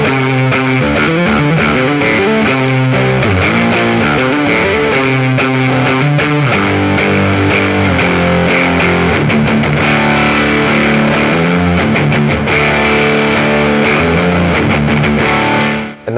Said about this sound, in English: cool momentary octave and kill switch effects, which makes this one heck of a versatile fuzz